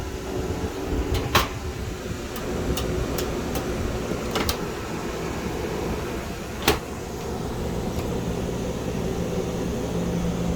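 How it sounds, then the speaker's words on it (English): Constant whooshing hum of air conditioning blowing inside a 2016 Winnebago Spyder 24FQ RV, with a few sharp clicks and knocks scattered over it. "Sorry about the wind noise. I got the AC on."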